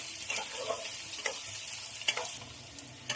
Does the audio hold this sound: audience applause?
no